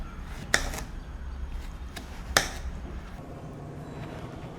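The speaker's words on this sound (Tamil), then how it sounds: "இந்த மாதிரி நறுக்கி போட்டால் போதுங்க இந்த மாதிரி நறுக்கி" A knife cuts brinjal (eggplant) pieces on a board for Chettinadu kathirikkai kothsumalli, giving two sharp chops about two seconds apart and a few fainter taps over low room noise.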